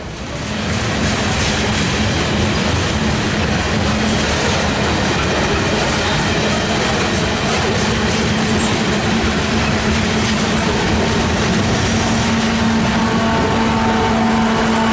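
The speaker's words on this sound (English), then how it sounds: "the train is back underway" A train pulls back into motion after a crew change on a mountain rail line, its cars rolling past with a loud, continuous rumble and steady clickety-clack of wheels on the rails, close by and with no voices.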